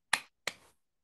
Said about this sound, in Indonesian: sekarang Ibu minta tepuk satu